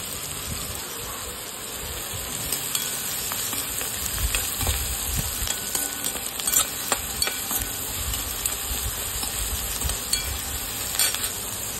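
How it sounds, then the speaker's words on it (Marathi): Onions frying with salt in a pan for a capsicum dish, a steady close sizzle broken by scraping stir strokes throughout, with no talking. "त्याच्यामध्ये आपण थोडं मीठ टाकूया म्हणजे आपला कांदा कसा लवकर फ्राय होईल"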